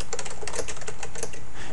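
Rapid clatter of keys on a computer keyboard, close and steady with uneven bursts of keystrokes, no voices.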